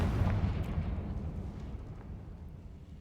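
A Confringo spell blast in the video game Hogwarts Legacy erupts as a loud, deep explosive boom right at the start, then rumbles and fades away over a few seconds.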